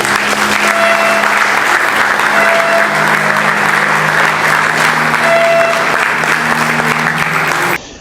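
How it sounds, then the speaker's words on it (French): An audience claps for the organisers of a scientific exhibition and competition at the INBTP, a loud, sustained wash of applause that holds steady for several seconds before cutting off abruptly. "Je vous demande d'applaudir les organisateurs."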